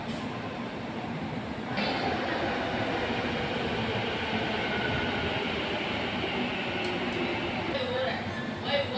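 A metro train running along its tracks, a continuous loud rumbling roar heard from on board that builds within the first two seconds and stays steady, with faint rail squeals near the end.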